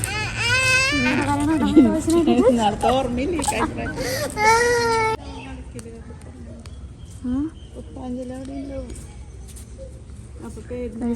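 People crying loudly at a temple, wailing, sobbing voices that fill the first half and then ease into quieter whimpers and murmurs against the surrounding crowd ambience.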